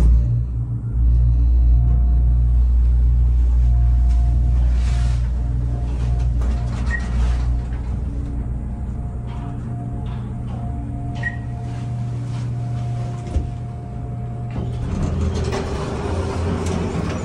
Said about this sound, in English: Send it up to lobby and let's listen to that motor.